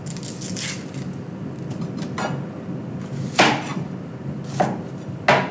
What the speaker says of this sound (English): I'll chop up the rest of the onions in a second